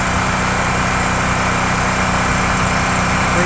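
An APU engine runs on its first start on a Kenworth W900 truck, a loud, smooth, constant small-engine drone heard close up with no variation.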